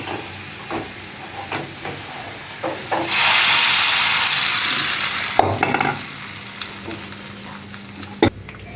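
A hot tempering of onion and curry leaves pours into sambar with a loud, sudden sizzling hiss that lasts a couple of seconds and then fades, with stirring and clatter before and after.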